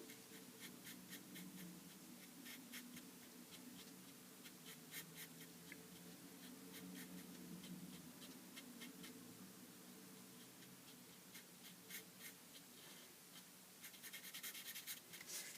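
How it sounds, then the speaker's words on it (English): A fine point Sharpie marker colors in a small scale on a stamped image, giving soft, quick scratchy strokes in repeated bursts, faint and close. "It's just a different type of fine point. So let's use these. I'm going to color in that little scale."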